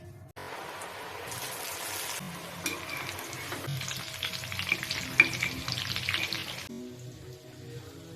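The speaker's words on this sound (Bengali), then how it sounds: "এখন আমি সাদা তেলে ভাজবো" Soft, crackling sizzle of mung dal puli pitha dumplings frying in hot white oil, bubbling steadily for several seconds before quieting near the end.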